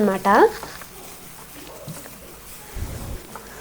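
Tomatoes fry and are stirred in a pan for a Maggi noodle dish, a low sizzle under a brief burst of voice at the start, with soft scraping stirs near the middle and end.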